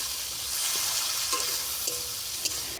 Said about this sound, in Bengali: টমেটোটাকেও ভালো করে নেড়ে চেড়ে মিশিয়ে নিচ্ছি